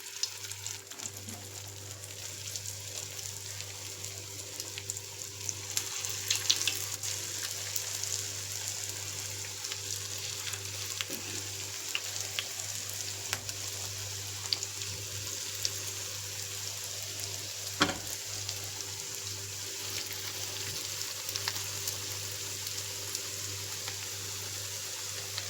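Chicken pieces fry in hot oil with a continuous crackling sizzle close by, steady throughout and dotted with occasional sharper pops and light knocks.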